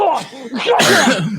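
One person sneezes sharply and close by, with voices around it during a tabletop role-playing game session.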